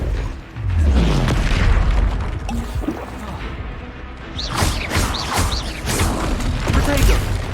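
Loud booming and whooshing spell effects from the video game Hogwarts Legacy, including the Incendio fire spell, with a rumbling low burst at the start and crackling, bright bursts later, continuous and close.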